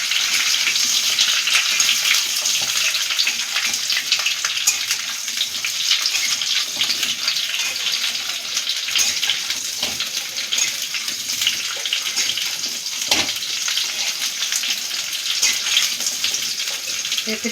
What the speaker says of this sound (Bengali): এবার পেঁপেটা দিয়েও ভালো করে ভেজে নেব।